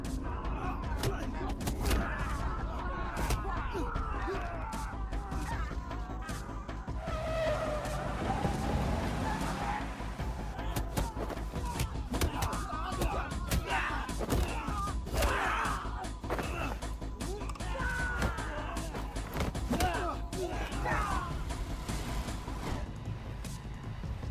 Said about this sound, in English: Take a look at this car chase scene from Raid 2